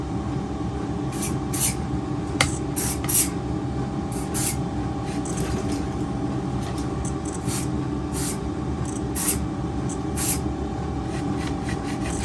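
Short hissing squirts of lubricant spray hit the parts of a Raptor 30 RC helicopter, several brief bursts in loose clusters over a steady mechanical background hum.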